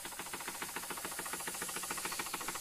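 A Wilesco D24 toy steam engine runs under steam, giving a fast, even chuff of hissing exhaust beats over a constant airy hiss, close and steady throughout.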